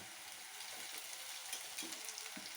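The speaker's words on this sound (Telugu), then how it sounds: "పిండి ఇది వేగాలి." Flour fries in an oil tempering in a pan for a quick puffed-rice breakfast, giving a steady, fairly quiet sizzle with a few soft stirring scrapes and no talking.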